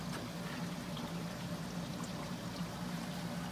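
Water from an African peacock cichlid aquarium system drains steadily into a sump, a constant close-up pouring and trickling wash with a low hum beneath it and no pauses.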